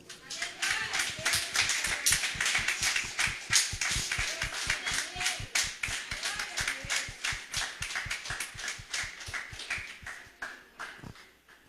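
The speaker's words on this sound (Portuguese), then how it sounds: "Aplauda ao Senhor, irmãos." A church congregation applauds during a sermon, with steady rhythmic clapping in unison and sharp, evenly spaced beats that carry on for several seconds at moderate loudness.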